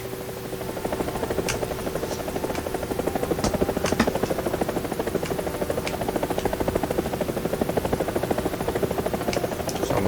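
Steady, loud helicopter rotor thumping with a constant engine whine in the video game War Thunder, continuous and close, with faint clicks now and then.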